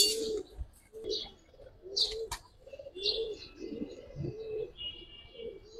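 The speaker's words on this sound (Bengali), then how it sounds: "একদম অরিজিনাল র হ্যামার কবুতর" A racing homer pigeon in moult, a young bird about ten days old, coos in repeated low throaty bursts close by, with a few faint chirps from other birds in the background.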